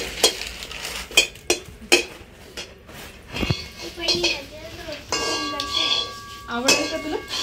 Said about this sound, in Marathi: काजू आधी थोडीशी तुपामध्ये परतून घेते.